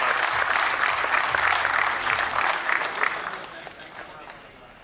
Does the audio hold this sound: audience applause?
yes